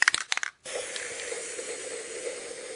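Paint sprayed through a Spraycasso funnel, a short burst of clicks and rattles followed by a steady close hiss that holds without pause.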